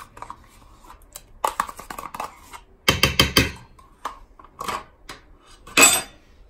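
Natural yogurt being stirred in a bowl, heard as scattered clicking and scraping bursts of a utensil against the dish, close and intermittent.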